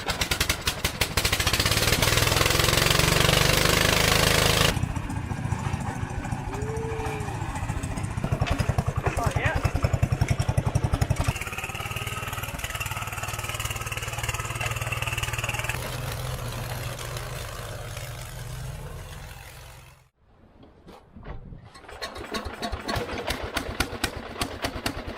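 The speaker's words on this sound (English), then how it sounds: "The old Howard Gem's running pretty sweet now" A vintage barn-find Howard Gem rotary tiller engine runs steadily at close range, a dense, even mechanical drone with someone talking over it. The drone briefly drops out near the end before picking back up.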